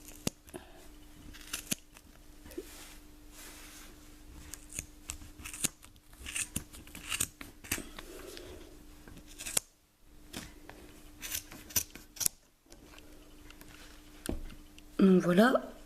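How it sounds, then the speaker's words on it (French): Scissors snip through yarn between the wound layers of a pompom for a rug, giving several short crisp cuts with rustling fibre, under someone talking nearby. "On va couper"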